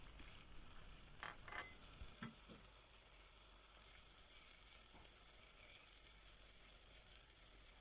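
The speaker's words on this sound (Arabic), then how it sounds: "حطيت معلقتين زيت ومعلقة سمنة، ونزلت ببصلاية كده مفرومة" Minced onion sizzles in a pan with two spoons of oil and a spoon of ghee before basmati rice goes in, a soft continuous hiss with a few stirring scrapes and clinks early on, fairly quiet and close.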